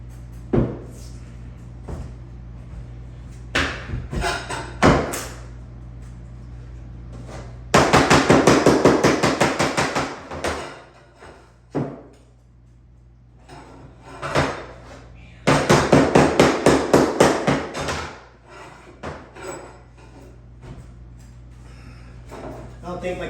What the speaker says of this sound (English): all the hammering that I'm doing